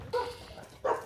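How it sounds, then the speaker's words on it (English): A stray dog in Krabi, Thailand barks twice in sharp, mid-distance bursts, the first around a fifth of a second in and the second near the end, with a quiet outdoor background between them. "there's a stray dog running around that just scared me."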